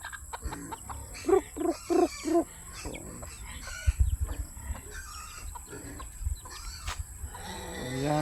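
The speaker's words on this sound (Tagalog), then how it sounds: "Ayan po yung aming manok." Native chickens cluck in a quick burst of several calls, followed by scattered clucks and a crow near the end, over a low background hum.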